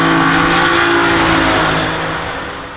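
A BMW E46 M3 CSL, nearly stock apart from uprated brakes, roars loudly past at speed, its engine note sustained and strong before fading slightly as it moves away.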